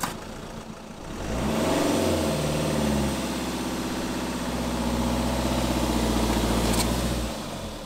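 A stuck camper van's engine revs hard in Argentina, a deep sustained drone climbing and holding for several seconds before easing off, close and loud with no talking.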